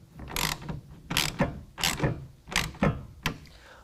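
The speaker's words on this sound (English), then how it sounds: "go ahead and tighten that down with a 1/2 inch wrench or ratchet" A ratchet tightens a tonneau cover clamp on the bed of a 2019 Chevy GMC 1500, giving five even, close clicking strokes in a steady rhythm.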